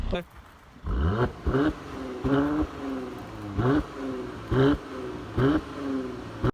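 A stock Mercedes C43 AMG engine gives a series of short, muted grunts, seven or eight brief revs rising and falling at an even pace from fairly close by, with someone talking over them.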